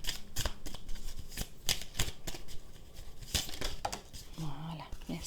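A deck of cards being shuffled during a card reading, rapid papery riffles and flicks repeating in close, soft bursts, with a voice briefly murmuring near the end.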